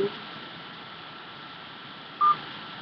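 A single short keypad tone beeps once inside an automated voicemail menu, standing alone over a quiet, steady line hiss.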